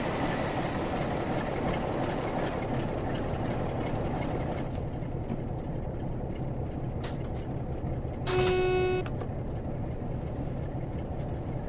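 A Class 47 diesel locomotive, number 47704, idles and rumbles steadily in Train Sim World 5 on the West Somerset Railway; a continuous low engine drone fills the whole stretch, with a brief tonal whine or horn-like burst near the end.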